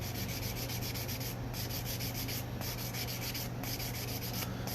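Steady, continuous rubbing of a string nut blank being polished to a shine, an even close-up abrasive hiss with no pauses.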